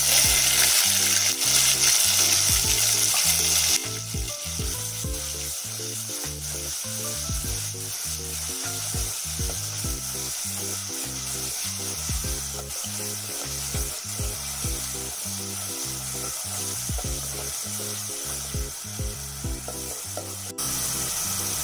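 Green chillies and ginger-garlic paste fry in about 100 grams of hot oil for egg biryani, giving a loud, steady sizzle that is harshest at first, then settles into an even crackle with a regular pulsing underneath.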